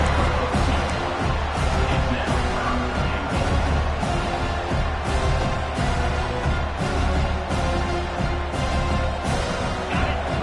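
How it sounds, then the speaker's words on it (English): A college football stadium crowd roars during a Clemson versus Miami game as the defense tries to hold near the goal line, a loud, sustained wall of cheering with rhythmic surges. "the crowd really making some noise now, trying to help out this defense to get this stop near the goal line"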